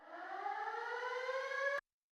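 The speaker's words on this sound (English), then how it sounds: "We have a lot of sirens," A single civil-defense-style siren sound effect in a cumbia and reggaeton track drones on a steady rising tone, loud and alone, then cuts off abruptly.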